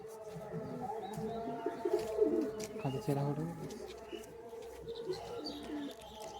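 Pigeons coo in a loft at Bagnan in soft, repeated low calls, with a few chirps around them and someone talking nearby in the background.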